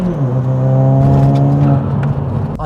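VW Scirocco GT with a 1.4 TSI engine and no blow-off valve, heard close up as a steady loud engine drone with a gently shifting tone over a few seconds, ending with a short click.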